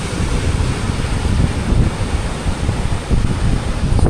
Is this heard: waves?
yes